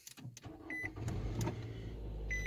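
A car engine cranks and starts during an alternator test with a multimeter, then settles into a steady idle rumble, with faint electronic beeps and no talk.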